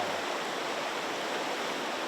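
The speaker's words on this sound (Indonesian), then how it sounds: "Nah, ini sungai besar." A large river flows steadily in an outdoor setting, a dense, constant rushing wash of water close and moderately loud, with no voices.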